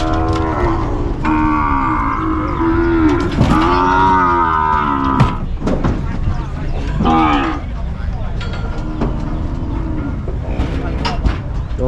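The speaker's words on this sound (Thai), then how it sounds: "เป็นวัวรุ่นเหรอครับ" Young cattle lowing at an open livestock market in Lop Buri, Thailand, several long moos rising and falling across the clip over a busy crowd murmur, with people talking nearby.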